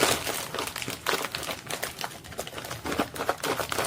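A zipper bag holding soap base is shaken close by to mix it, giving repeated crinkly plastic rustling bursts in an irregular, steady rhythm with no talk.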